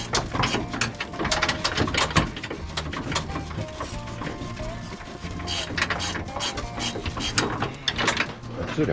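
A ratchet wrench works a stiff lock nut on a decorated truck, with rapid repeated clicking and metallic clanks in close, busy bursts.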